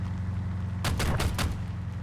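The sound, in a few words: gunfire in a video game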